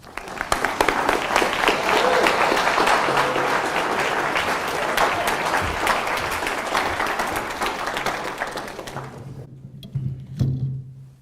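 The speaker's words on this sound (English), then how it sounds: "Please join me now in welcoming Dr. Vince Vitale." Lecture audience welcoming a speaker with a strong, sustained burst of applause that lasts about nine seconds and then fades, followed by brief quiet and a few stray sounds.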